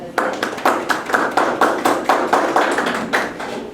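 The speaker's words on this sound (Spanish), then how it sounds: "Aplauso, por favor." Hands clap in a roughly even rhythm at a monograph defense ceremony, with about a dozen distinct close claps over a few seconds and little other sound.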